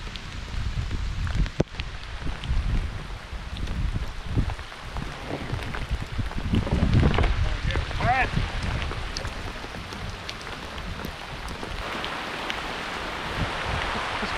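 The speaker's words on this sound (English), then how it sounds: "Man, it's just pouring down out there." Heavy rain pours down outdoors beside a large waterfall in Tennessee, a steady dense hiss of drops and splashing that stays loud and continuous throughout, with occasional sharper knocks and no one speaking.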